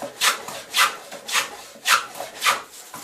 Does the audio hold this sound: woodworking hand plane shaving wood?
yes